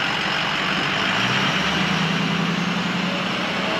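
A 6.0 truck engine idles steadily just after being restarted, a loud, even low rumble that continues without a break and without voices.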